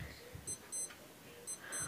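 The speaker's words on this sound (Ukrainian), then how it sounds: "я ж вам маю показати будильник" A Casio W-212H digital wristwatch alarm gives quick high-pitched double beeps in a repeating pattern, faint and thin against steady background hiss.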